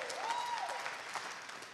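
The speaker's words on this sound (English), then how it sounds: "clap." Audience applause at a celebration of the Langston Hughes Performing Arts Institute, a steady moderate patter of clapping with a brief faint whistle-like tone early on, no speech.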